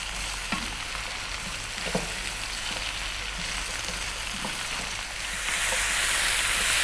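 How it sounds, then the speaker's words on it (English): Cabbage stir-frying with bacon fills the pan with a dense, even sizzle and occasional stirring scrapes, the hiss growing louder and brighter toward the end. "Stir fry this round, the cabbage will cook down."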